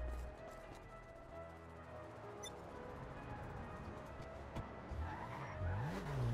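An RH8 car drives in a video game, its engine humming low and steady with rising revs and a faint skid near the end.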